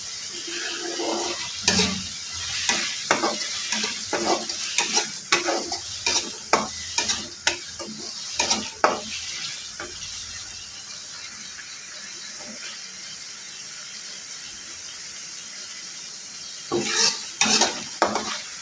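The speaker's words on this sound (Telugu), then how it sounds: "అలా కలుపుకుంటూ ఉండాలి." A curry sizzles in a frying pan while being stirred, with repeated scraping and clattering strokes through the first half, a quieter steady frying hiss in the middle, and a few more stirs near the end.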